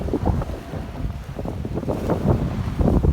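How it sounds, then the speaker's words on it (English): Strong, gusty wind buffets the microphone of a bicycle rider pushing into a headwind on a coastal road by the bays, a loud continuous low rumble that surges and swells throughout. "it's been so bloody windy"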